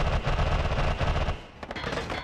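Dense, continuous rumbling explosions and rapid blasts from the video game Noita, loud and overlapping with no gaps, easing briefly near the end before more bursts.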